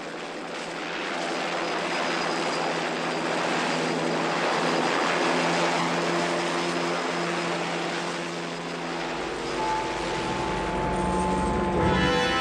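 Helicopter in flight in a horror movie scene, a loud continuous rotor and engine drone that swells and fades slightly, with a heavy low rumble entering near the end.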